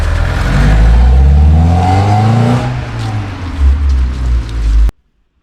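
An Alfa Romeo 155 widebody with a 4-cylinder 1.8-liter twin-spark 16-valve engine and sport exhaust revs up loud and close, pitch rising and dipping through several pulls before cutting off abruptly into silence.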